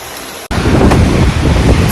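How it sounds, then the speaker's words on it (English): Strong wind blowing outdoors near Mammoth Cave National Park, a loud continuous broadband rush buffeting the microphone after a brief dropout near the start, with no talk. "So windy today"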